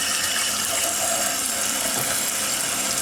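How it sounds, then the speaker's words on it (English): Water runs steadily from a kitchen sink tap, rinsing a cleaning chemical used on Yamaha Rhino side-by-side ignition parts down the drain, a continuous close splashing rush with no voices. "rinse this chemically stuff down the drain"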